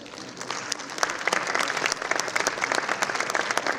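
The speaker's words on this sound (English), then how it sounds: "A big round of applause to her." Warm audience applause at a conference on women entrepreneurs in agritech and foodtech, many hands clapping in a full, lively burst that swells and holds for several seconds.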